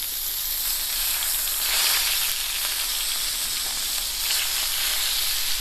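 Lamb chops seasoned with salt and plenty of black pepper sizzle in a pan, a steady bright hiss with slight swells that continues throughout without any talking.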